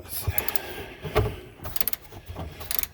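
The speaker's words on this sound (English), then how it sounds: "You just get you a nice ratchet wrench." GearWrench ratchet wrench working on a bolt of a 2007 Chevrolet Tahoe's air system, with quick clicking ratchet bursts and metallic taps, close by, amid some mechanical handling noise.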